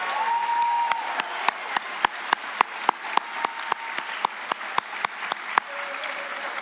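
A high school honors convocation audience applauds, the dense clapping punctuated by a rhythmic series of sharp, evenly spaced claps cutting through the wash, moderately distant in a large hall.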